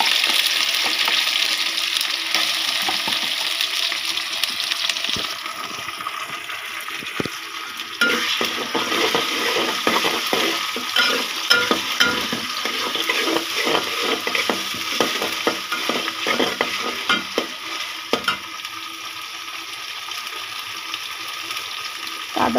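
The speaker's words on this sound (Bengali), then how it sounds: "আদা রসুনটা একটু ভাজা ভাজা হোক" Ginger garlic paste frying in a pan, a loud continuous sizzle with frequent stirring scrapes and clatter, steady from start to finish.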